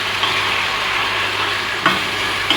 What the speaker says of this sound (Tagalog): Sasamputsa po natin siya ng mga 5 minutes lang para lumabas po yung mantika